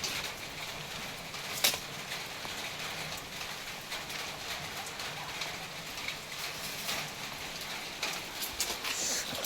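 Steady rain falls on a surface at a livestock sale yard, a soft continuous patter with a few faint sharper drops and distant birds, quiet and without talk.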